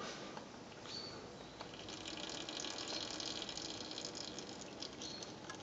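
Hydraulic oil from a Fiat 640 tractor's front loader system drains into a pot in a steady, soft trickling pour that goes on throughout, with no voices.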